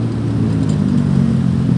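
A sand truck rumbles along a city road, its steady low engine drone loud and continuous, close by with traffic noise around and no talking.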